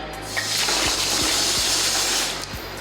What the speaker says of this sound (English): put a little bit of water in there